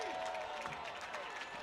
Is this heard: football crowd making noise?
yes